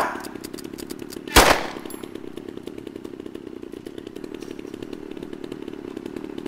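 Chainsaw in the video game DayZ revving in a fast, rattling, buzzing rhythm throughout, with a sharp loud burst near the start, close and dominant.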